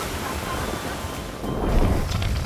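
Strong surf pounding a beach at Versova, Mumbai, a steady roar of breaking waves mixed with gusting wind buffeting the microphone, swelling louder toward the end.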